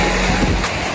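Sea water washes in at a shoreline in Zambales with a brief, loud, broadband rush of surf.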